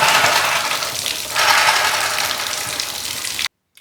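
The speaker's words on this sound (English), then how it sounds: "I'm going to put my mouth on the end of the receiver. I'm going to flush any excess water out." Water rushing out of a trumpet's lead pipe as it is flushed during cleaning, a steady broadband gush lasting about three and a half seconds before cutting off abruptly.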